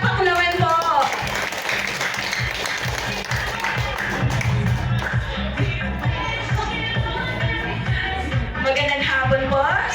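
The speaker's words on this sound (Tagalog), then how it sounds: "Isang palakpak naman po." Applause from a crowd at a Christmas gathering of barangay leaders in Pasig, Philippines, a steady dense patter lasting several seconds, with voices and music-like tones around it.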